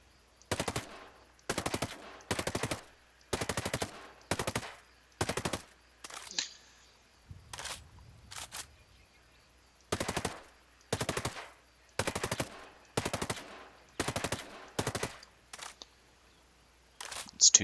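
A bullpup assault rifle fires in Ghost Recon Breakpoint in a string of rapid bursts with short gaps between them, loud and crisp, with a brief pause partway through.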